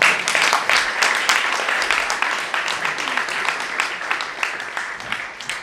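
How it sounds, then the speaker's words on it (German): Steady audience applause at a panel discussion, dense and fairly loud clapping that continues throughout, with a few sharper claps near the start. "da möchte ich den Applaus nicht unterbrechen"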